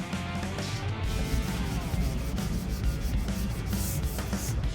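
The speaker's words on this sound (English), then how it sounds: "More sanding." Steady close rubbing of 320 grit sandpaper over primer on a square-body K-10 truck, continuous and even strokes with a dense scratchy texture and no talking.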